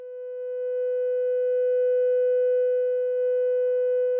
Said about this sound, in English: I'll plug in a sine wave.